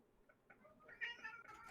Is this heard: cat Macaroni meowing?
yes